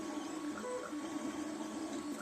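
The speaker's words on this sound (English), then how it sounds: "I really like this printer." An Ortur 4 V1 3D printer at work on a support-free print, a steady close mechanical whir with faint stepper-motor tones shifting pitch, continuous with no voices.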